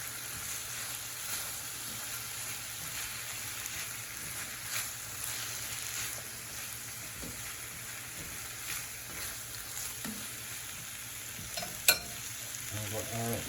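Salmon and zucchini frying in a pan give a steady, moderate sizzle with occasional soft stirring scrapes and one sharp clink near the end, and no one speaks over it.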